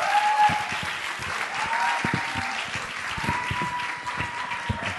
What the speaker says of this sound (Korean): 김철홍 목사님 나오실 때 우리 큰 박수로 또 환영하도록 하겠습니다